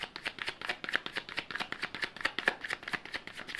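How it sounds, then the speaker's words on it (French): A deck of cards being shuffled and a card drawn, in a tarot-style reading: a rapid run of crisp riffling flutters and snaps, close and fairly bright, repeating in quick bursts for a few seconds. "je vais prendre une petite carte"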